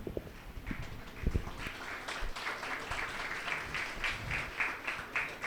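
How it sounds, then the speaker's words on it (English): Clapping breaks out among graduates and guests at an architecture college convocation ceremony. It starts as scattered, uneven claps and builds into quiet, rhythmic applause in a large hall. "The clapping should not stop."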